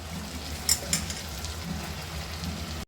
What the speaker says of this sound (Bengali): 5-6 মিনিট মুরগির মাংসটা কষাবো